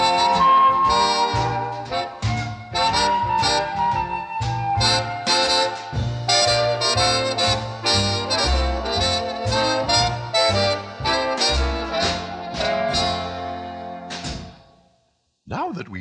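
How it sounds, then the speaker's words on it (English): A flute, an early bass violin and a lyre play together in a full ensemble passage, with a flowing melody over a rhythmic low line that stops near the end. "The Pythagoreans played using a flute and an early version of the bass violin and a lyre."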